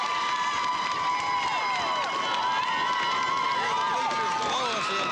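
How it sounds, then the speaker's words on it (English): Football crowd in aluminum bleachers at a 1987 Lambuth College versus Lane College game, with a steady, dense roar of cheering fans and stomping. The noise holds continuously throughout, and whistle-like tones ride above it. "Below us, the aluminum bleachers come to life,"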